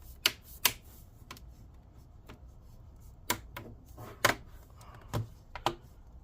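Sharp plastic clicks from a Samsung Galaxy Book5 Pro 360 laptop's bottom cover clips snapping into place, about ten crisp, close snaps at irregular intervals over quiet background.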